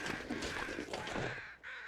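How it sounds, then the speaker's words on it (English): Crows caw in The Long Dark survival game, a few hoarse calls rising over a steady wind-like ambient bed, moderately distant. "Okay, I hear crows."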